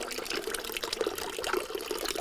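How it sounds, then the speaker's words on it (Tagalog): Water running and dripping from a communal faucet in a barangay with scarce supply, a continuous wet splashing trickle with small irregular drops, fairly close and steady. "tulo ng tubig"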